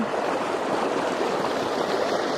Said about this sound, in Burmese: ရေမြောင်းနဲ့ရေစီးနေတယ်